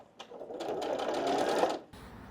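Sewing machine stitching fabric for bias tape, a fast steady whirring run of needle strokes for about a second and a half, close and clear, then stopping.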